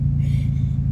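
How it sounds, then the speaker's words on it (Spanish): The engine of a new car idles steadily after starting, a close, even low rumble with no revving. "Bueno, ya está prendido el carro"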